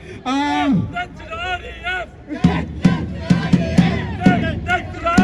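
Protest crowd at a rally outside Sydney Town Hall chanting a slogan in unison, a leader's voice calling out first and many voices answering in loud rhythmic bursts close by.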